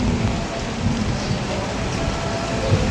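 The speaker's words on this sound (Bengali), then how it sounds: "ঠাডা দিতেছে" Heavy rain pours steadily during a thunderstorm, a loud, dense wash of noise with deep low rumbling of thunder underneath throughout.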